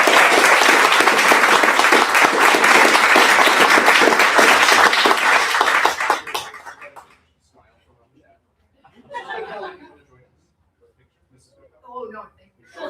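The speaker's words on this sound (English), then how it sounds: "And if we could just join us all in a round of applause." Full round of audience applause at a school board of education meeting, loud and dense for about six seconds, then fading out into quiet room sound with a few brief bursts of talk.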